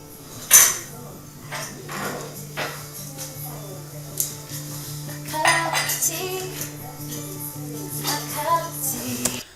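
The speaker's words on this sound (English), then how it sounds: "There's way too much noise coming from my kitchen." Dishes and cutlery clatter and clink repeatedly in a kitchen, with scattered sharp knocks over a low steady hum and some voices.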